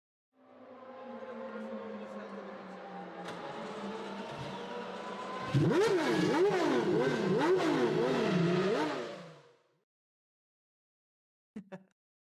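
A racing car in a simulator at Monza revs hard and loud, its engine note rising and dropping through several quick upshifts before cutting out, then two short clicks.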